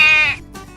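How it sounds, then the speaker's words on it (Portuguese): A sheep gives one short, bright bleat, close and clear, followed by a faint second bleat after a brief pause, with no voices. "Que som a ovelha faz?"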